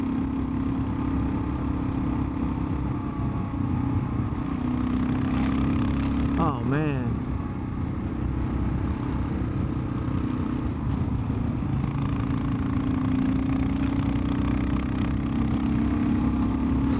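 A Kawasaki KLR 650 motorcycle fitted with an aftermarket header exhaust drones steadily out on the road, its engine note constant and close with a brief rising surge midway, while a rider talks over it.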